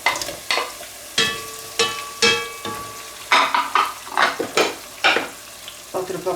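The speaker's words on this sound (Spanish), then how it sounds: "la cebolla ya se está poniendo blandita, ahora vamos a echar el pimiento troceado" Chopped green pepper added to softened onion and stirred in a frying pan, giving repeated bursts of scraping and sizzling at an uneven rhythm, close and fairly loud.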